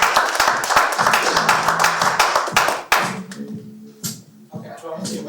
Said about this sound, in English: Round of applause for the master.